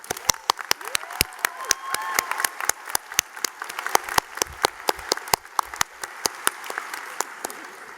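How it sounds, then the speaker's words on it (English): Graduation audience applause for a senior class, rapid irregular claps from a room of people, crisp and close, with a quieter murmur of voices beneath. "give my fellow classmates another round of applause."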